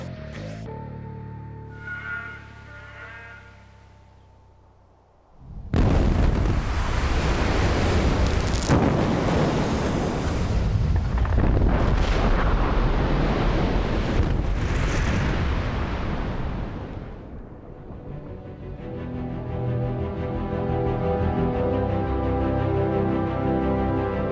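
Explosive rock blasting at a large mine sounds as a sudden deep boom after a quiet stretch, then a long, loud roaring rumble of falling rock and debris that slowly fades.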